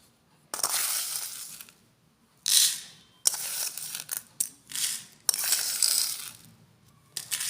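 Coarse rock salt poured into a small holed plastic box for a homemade air freshener, heard as several bursts of rattling, crunching grains tumbling in, close and alone with brief pauses between pours.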